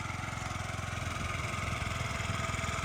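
A fuel-injected Yamaha Jog SA55 scooter engine idles steadily with a fast, even putter, close by and continuous with no talking.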